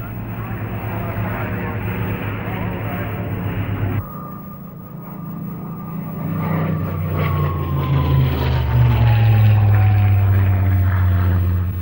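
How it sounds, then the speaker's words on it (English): Fairey Firefly, a Rolls-Royce Griffon-powered propeller naval aircraft, drones overhead with a steady engine roar that swells louder toward the end, a falling pitch suggesting it passes by; narration runs over it. "One very impressive machine to be seen over the last decade was the Fairey Firefly."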